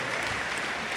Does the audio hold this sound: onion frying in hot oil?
no